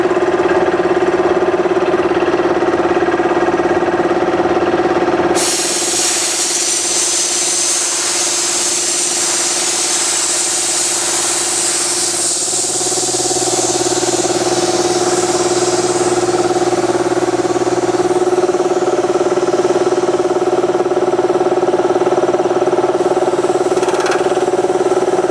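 An Alkin SCUBA-grade HPA compressor runs with a steady mechanical drone. A sudden burst of hissing air cuts in partway through as moisture is purged with the valves open, and it keeps going to the end.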